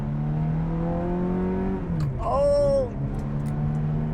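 Ferrari F430 engine running with a smooth, steady droning hum heard from inside the car, its pitch gliding down then rising briefly as it revs, with a short spoken exclamation.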